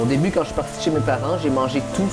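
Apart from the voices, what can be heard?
No everyday noise stands out behind the speech.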